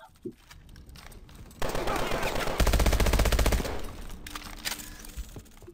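Call of Duty: Advanced Warfare gameplay with rapid automatic gunfire. Several loud, fast bursts form a dense stretch of shots in the middle, with scattered single shots before and after, and someone talks briefly around them.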